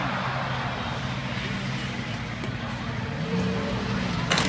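A pair of 40-passenger buses racing side by side on a figure 8 track produce a steady engine roar and road rumble, with a rising engine tone and a sharp clatter near the end.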